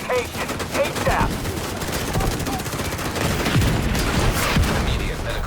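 Heavy, sustained gunfire and mortar explosions in the shooter game The Division 2, loud and continuous with rapid bursts layered over each other.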